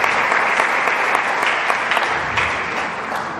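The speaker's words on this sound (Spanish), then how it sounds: "Creo que le podemos dar un aplauso al Señor, ¿verdad?" Dense, steady applause from a church congregation during an evening Holy Hour homily, even and continuous throughout, with no voices standing out.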